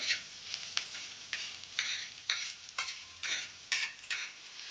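Onion frying in hot oil spatters while a spoon stirs it around the pan, giving rapid, crackling bursts of sizzle in a steady, repeating rhythm; quiet and close with no talking.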